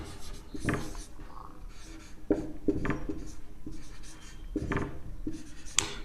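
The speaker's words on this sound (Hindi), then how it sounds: "एक क्वेश्चन और लिख देते हैं।" Pen or marker scratches out a maths question in short repeated strokes, each a brisk rasping sweep separated by brief pauses, close and fairly quiet with no talking.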